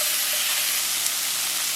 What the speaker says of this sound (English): So just stir it.